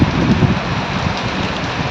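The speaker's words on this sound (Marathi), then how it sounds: "एकदम छान असं वातावरण झालेलं आहे आज पावसाचं" Heavy stormy rain pours steadily in a dense hiss, with gusting wind rumbling low underneath.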